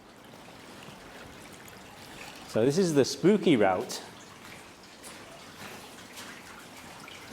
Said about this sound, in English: The sound of running water you're hearing is water actually just running directly along the path I'm walking on.